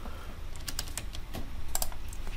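Fingers tapping numbers on a computer keyboard, a few quick close clicks in short clusters over a steady low background hum.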